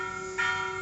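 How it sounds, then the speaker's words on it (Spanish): A church bell rings with sustained, humming overtones, then a fresh strike midway brightens and swells the tone before it settles into a steady ring, close and clear, with no voices. "¿Cómo suena esa campana, por Dios?"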